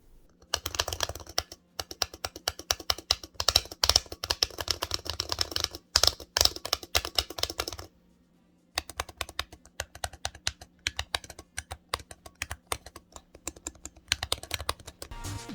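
Rapid, sharp clicks from the buttons of an MPress Nano all-button leverless controller, tapped in quick bursts and rolls, close and fairly loud, with a short pause midway and a faint steady hum underneath.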